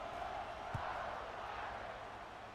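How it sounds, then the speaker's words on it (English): Steady, broad roar of a college football stadium crowd at a Texas Longhorns game after a score, buzzing continuously at a distance with no single voice standing out. "this crowd is buzzing after that last score"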